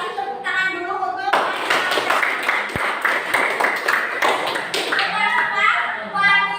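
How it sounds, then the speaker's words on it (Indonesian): A classroom of children breaks into applause after a short stretch of talk, a burst of brisk clapping with a thump, then fading back to a speaking voice. "Kita kasih tepuk tangan dulu untuk"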